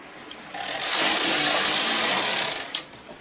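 A knitting machine carriage slides across the needle bed to knit a row of a sweater back, making a smooth rising-and-falling mechanical whoosh about two seconds long, with small clicks as it stops.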